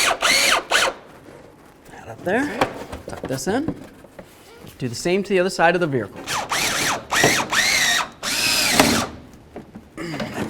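A power tool drives a headlight assembly bolt on a 1997-2005 Lexus GS300, giving short whirring bursts between stretches of close talk.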